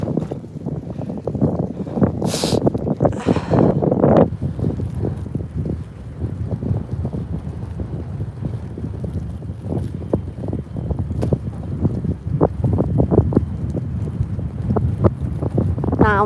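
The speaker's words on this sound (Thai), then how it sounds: "ลมพัดแบบนี้หนาวไหม" Steady wind gusts buffet the microphone beside the water at a fishing spot on a dark, overcast day with rain about, a continuous loud rushing roar with no one talking.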